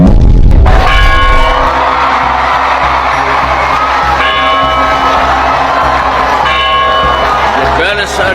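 Balangiga church bells ring out at a public ceremony, the peals sounding loud and sustained amid a cheering crowd, with talk and shouting mixed in throughout.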